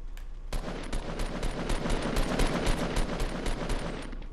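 Rapid automatic gunfire in Fortnite rattles continuously after a brief pause, loud and near, with bursts of shots layered into a dense fusillade for several seconds.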